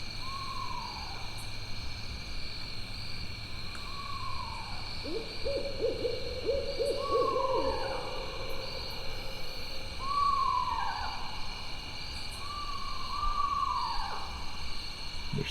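A screech owl gives repeated descending whinnying hoots, roughly every one to two seconds, over a steady background hum; a second, fainter screech owl seems to answer.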